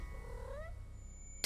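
A single short, rising-then-falling meow from a cat in a video game, clear and close over a low background hum, ending in a brief click.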